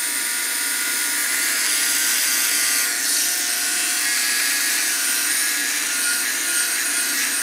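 An electric trimmer cutting facial hair gives a constant, close, high-pitched buzz that holds steady throughout with no breaks.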